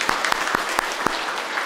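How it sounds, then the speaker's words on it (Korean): A church congregation clapping during a Sunday service after a choir's hymn. A handful of sharp, distinct claps ring out over a soft, diffuse patter, fairly close and moderately loud, with no speech. "박수로 우리 격려하겠습니다"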